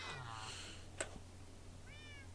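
Cats meow several times in a video game, faint and thin, with a short click in between and a later rising mew near the end.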